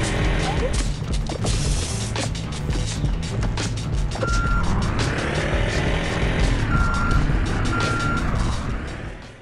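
Truck reversing beeps in the video game Sneaky Sasquatch: several evenly spaced high beeps over a loud rumbling engine, with engine sweeps rising and falling between them.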